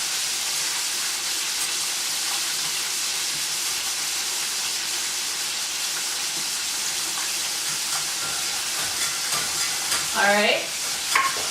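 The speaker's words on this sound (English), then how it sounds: "Okay, so I'm gonna whisk in the butter." Butter being whisked into flour in a hot pan gives a continuous bright sizzle and hiss with soft stirring scrapes, steady throughout, and a brief spoken word near the end.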